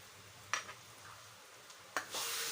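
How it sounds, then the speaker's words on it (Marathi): Mashed eggplant being stirred in a pan with sautéed spices: two quiet scraping knocks of a spoon against the pan, each followed by a faint sizzle, the second swelling into a steadier hiss. "आता ते चांगल्यापैकी मिक्स करून घेऊया।"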